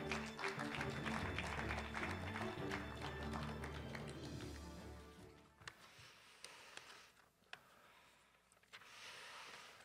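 Audience applause welcomes the provincial council chair to the stage at a network launch ceremony, a dense clapping wash over a music-like drone that fades after five seconds, leaving scattered taps and footsteps.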